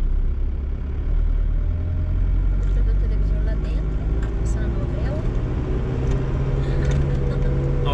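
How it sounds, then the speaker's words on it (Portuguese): A loaded car strains up a steep hill in first gear on a rural road in Minas Gerais, its engine a low continuous drone that holds steady throughout. "O carro tá carregado, engato primeira e agora eu subo devagar."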